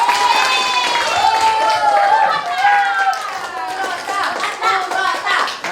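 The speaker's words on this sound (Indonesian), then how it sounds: "Kita berikan aplaus untuk semuanya." Students clap together in a classroom, a steady wash of applause mixed with raised voices and cheering throughout.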